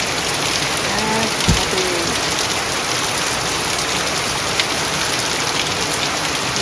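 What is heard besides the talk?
rain falling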